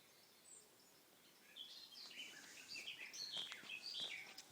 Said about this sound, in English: Isn't that a beautiful bird sound? I wonder what that is. Oh, I can hear a blackbird getting alarmed.